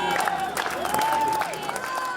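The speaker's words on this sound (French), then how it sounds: "Des applaudissements et des sourires." A welcoming crowd in Frankfurt applauds and cheers, steady clapping mixed with a murmur of voices and some singing, fairly loud and continuous.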